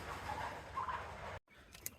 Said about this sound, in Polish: No i tutaj mamy y, trochę przepiórek, jumbo, różne mieszanki